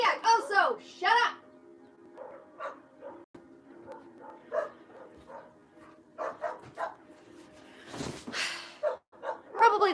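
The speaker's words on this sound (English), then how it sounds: "Probably the mailman's here, which is why all the dogs are freaking the hell out." Several household dogs bark and yip in a restless, uneven burst, some loud and close, others softer, mixed with whimpers and a voice.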